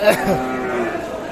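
Young calves moo at a busy cattle market, one close, loud bleating moo rising and falling over about a second amid a steady crowd murmur.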